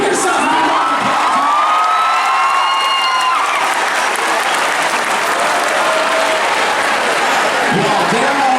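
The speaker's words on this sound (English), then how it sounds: "Give yourself a round of applause." High school students in a gym burst into loud, sustained applause with cheering, whoops and shouts, a dense roar of many hands and voices that continues without a break throughout.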